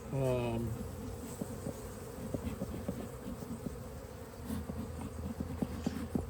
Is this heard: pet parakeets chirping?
no